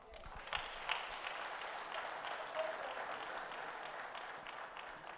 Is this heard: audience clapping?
yes